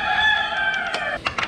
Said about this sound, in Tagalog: Esensya na kayo sa ingay ng manok, umaga pa lang kasi dito.